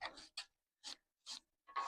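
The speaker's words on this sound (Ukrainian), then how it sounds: "нам потрібно ось така желізна щітка, щоб почистити різьбу від пилу і всякого бруду" Steel wire brush scrubbing dust and dirt from a screw thread, in short separate rasping strokes, about four quick scrubs with brief pauses, close and fairly quiet.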